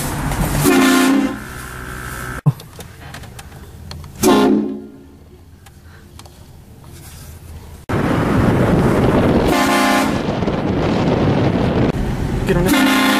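A train-style air horn is blasted as a prank, with loud, sustained honks repeated several times, separated by quieter stretches with wind buffeting the microphone.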